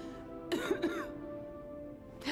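Video game character in Lies of P coughing: two quick throaty coughs close by over a soft background hum, followed by a brief pause, with the start of another cough at the very end.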